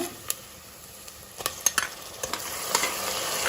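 Biryani masala frying in a pan for a Hyderabadi chicken dum biryani, a soft steady sizzle broken by several sharp scraping strokes of a stirring spoon, no voices.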